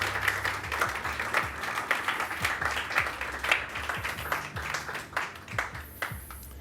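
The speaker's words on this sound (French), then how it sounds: "On peut l'applaudir bien fort, ouais." Theatre audience at a mentalist's paranormal stage show applauding a participant, a full, lively round of many hands clapping in a steady rhythm that carries on for several seconds before slowly thinning out.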